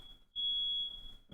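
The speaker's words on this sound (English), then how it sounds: "he's got the fire alarm going off right now" A household smoke alarm set off by cooking, sounding a steady high-pitched electronic tone that breaks off briefly near the start and again near the end, loud indoors with no talk.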